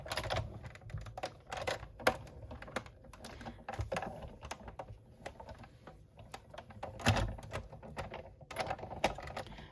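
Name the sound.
paper being run through a BetterPress embossing machine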